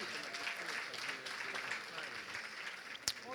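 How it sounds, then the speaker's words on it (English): Clapping from a luncheon gala audience thanking a sponsor, a steady spread of applause with crowd voices mixed in, moderately distant, ending with a sharp bump near the close. "Please clap it up for the Grand Slam."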